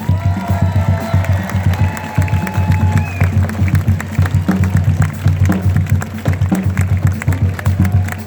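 A crowd at the Carnival Panorama cruise ship naming ceremony applauds the Carnival Cruise Line senior leadership team, loud clapping and cheering over rhythmic, thumping stage music.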